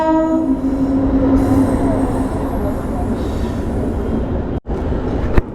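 A crowded passenger train in India runs on, a steady loud rumble of wheels and carriage, with a horn-like tone early on, a sudden brief dropout near the end and a sharp click after it.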